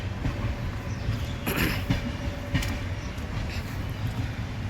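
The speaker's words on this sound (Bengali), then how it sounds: "কিন্তু এই ট্রেনটা যাচ্ছে" A train running on the railway near Kolkata station rumbles steadily throughout, with the low roar of the wheels and a few sharper rattling clatters, heard close by and with no one talking.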